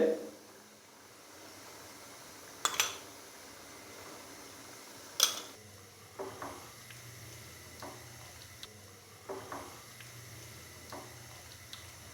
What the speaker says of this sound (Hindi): तो इस टाइम पे आके 2 से 3 खाने के चम्मच भर के हम इसके अंदर दही डाल देंगे